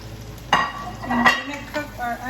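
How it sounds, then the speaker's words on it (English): Sliced peppers and onion sizzle in a hot frying pan while a utensil stirs and clinks against the metal a few times. "I'm going to add them to my frying pan."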